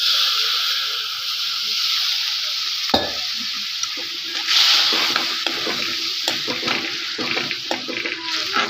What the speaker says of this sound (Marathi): याच्यात थोडं पाणी टाकायचं.